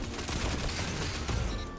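Rapid hand cannon fire in the Destiny 2 video game, a dense close burst of shots and explosive impacts packed into under two seconds.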